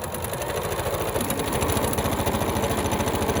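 A sewing machine stitches an upcycled baby tee, running with a steady, fast mechanical whirr and rhythmic needle chatter that continues loudly throughout without talk.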